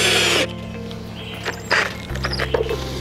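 A power drill drives a screw into a gutter guard bracket at a roof's drip edge, giving a brief whirring burst followed by quieter scrapes and clicks.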